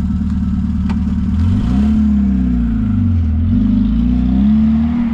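A car engine revs and climbs in pitch as the vehicle pulls away and drives off, loud and close, with the engine note rising, dipping and rising again over a rumbling low end, no voices heard.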